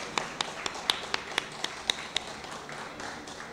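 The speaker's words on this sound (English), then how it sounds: "Let's give her a round of applause, everybody." Scattered hand clapping at a stamp launch ceremony honouring golfer Yuka Saso, a handful of distinct claps at a distance fading into a quieter room tone.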